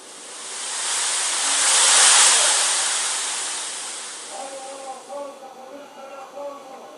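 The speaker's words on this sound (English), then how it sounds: "if you leave the modifier at 0, it allows you to just add noise by itself" A broad hiss of synthesized noise from a synth's noise oscillator swells and fades on its own, then a faint pulsing tone with a steady rhythm creeps in underneath near the end.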